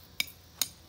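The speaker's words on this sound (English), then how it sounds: "I'm beating it in with a tire iron." A tent stake driven into the ground at a campsite with a tire iron instead of a hammer: two sharp metallic clanks about 0.4 seconds apart, close and isolated.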